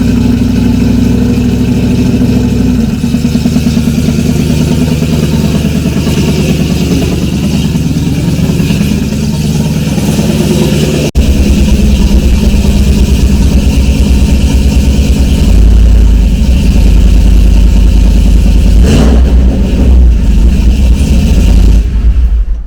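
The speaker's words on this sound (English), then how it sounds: "let's pull the truck into the garage" A single-cab Chevrolet Silverado pickup engine rumbles loudly and steadily up close, idling and then rising as the truck revs and pulls forward into a garage, with no talking.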